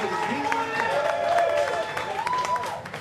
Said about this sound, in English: big round of applause for round 2